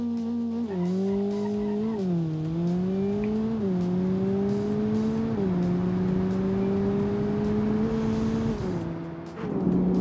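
An off-road car in BeamNG.Drive, fitted with fat tires, high ride height and a regular exhaust, drives over speed bumps. A steady engine drone rises and dips in pitch throughout, with tire noise and no talking.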